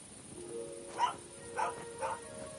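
A dog barks three times in quick succession, short mid-pitched yelps over a faint steady hum, fairly close and with no speech.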